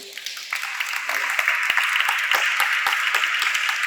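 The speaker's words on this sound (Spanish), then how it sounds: "¿Cuánto le dan un fuerte aplauso al Señor por eso?" A church congregation applauds during a Spanish-language sermon, a dense, steady wash of many hands clapping that swells in after a quiet start and holds loud to the end.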